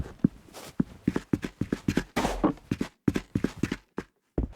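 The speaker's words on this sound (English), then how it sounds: "The footstep audio is very repetitive and sounds a little more like Roblox than gritty FPS." Repetitive footsteps in a Roblox video game thud at a steady walking pace, each step nearly identical, with a brief scuffing shuffle midway, close and fairly loud.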